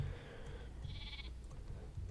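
Sheep bleating in the Minecraft video game, a short synthetic bleat standing alone over a low background hum.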